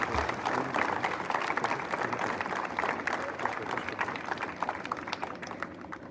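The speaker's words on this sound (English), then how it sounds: "Let's give them a big round of applause for their impactful presentation." At an Independence Day celebration, an audience applauds a choir after a national song, a continuous wash of many hands clapping at moderate distance, fairly even and slowly fading toward the end.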